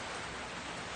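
Steady rain falling outdoors, a dense, even hiss of drops with no breaks, fairly faint and uniform throughout.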